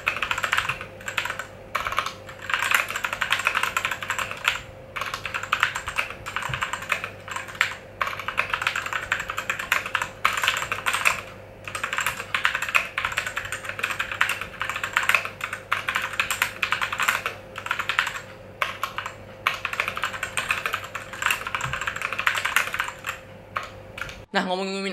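A mechanical keyboard typed on continuously for a sound test, rapid clacky keystrokes in a dense, even rhythm, close and loud with no pauses.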